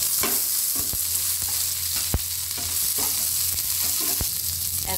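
Chopped ginger, green chilli and beans fry in a pan with a continuous close sizzle, punctuated by sharp clicks and scrapes of stirring; no one talks.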